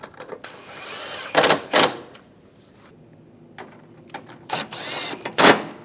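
Bolts being snugged down on a headlight assembly of a 2014-2018 GMC Sierra, heard as several bursts of ratcheting and clicking metal work in short clusters, close and fairly loud, with no talking.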